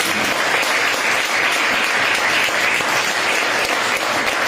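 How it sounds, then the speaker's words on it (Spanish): A church congregation applauds together during a Spanish-language sermon, dense, steady clapping that fills the room at full level from start to finish. "Denle un aplauso al Señor, hermano"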